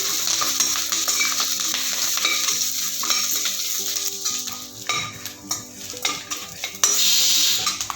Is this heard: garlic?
yes